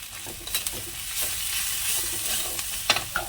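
Turmeric, chili, coriander and cumin powder with a little salt sizzle in hot oil while being stirred, with a steady close frying hiss and occasional scraping clicks.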